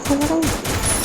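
Gunfire in the battle royale video game Free Fire crackles in a rapid burst of several sharp shots, fairly close and loud, with a brief tonal game sound mixed in.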